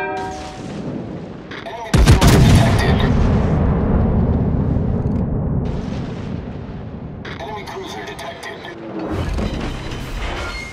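Naval guns boom in the World of Warships game aboard the battleship Ohio, with a heavy sudden blast followed by a long rumbling roar and a second wave of firing later, under faint game effects.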